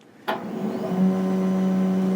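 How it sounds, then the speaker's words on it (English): An Adkins DTF Inline 800 printer's vacuum roller starts up at its set feed speed, a sudden click followed by a steady mechanical whir and motor hum that settles into an even drone. "you'll see the vacuum roller starts turning at the desired speed"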